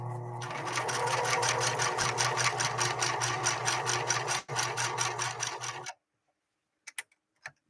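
A Singer 6215C sewing machine runs a straight stitch through canvas in a loud, fast, even mechanical chatter that stops abruptly near the end, followed by a few faint clicks.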